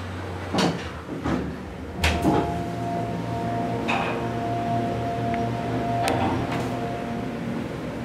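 Dover oildraulic elevator in a parking deck, its door sliding shut with a few clunks and thuds, then a steady low hum of the hydraulic drive running underneath.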